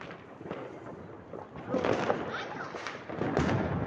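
Firecrackers go off at a New Year celebration, scattered sharp bangs and pops of varying loudness, some distant, amid crowd noise and people talking nearby.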